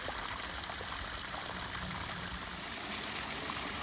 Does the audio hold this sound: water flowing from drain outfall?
yes